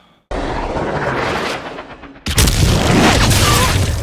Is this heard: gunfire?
yes